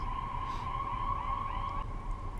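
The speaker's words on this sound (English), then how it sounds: "excuse the sirens" A police siren wails at a steady pitch nearby, then fades and shifts as it moves past, over a low traffic rumble.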